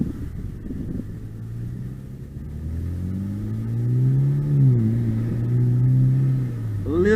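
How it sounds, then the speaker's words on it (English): Turbocharged BMW 328i sleeper with full bolt-ons accelerating from inside the car, its engine note rising and falling steadily through a long pull, loud and close with a low rumble throughout. "Listen to that turbo."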